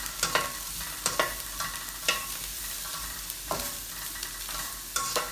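Carrot and spring onion whites stir-fried in a pan for vegetable rice: a steady sizzle broken by sharp, repeated scraping and tossing clatters from the spatula, close and fairly loud with no talking.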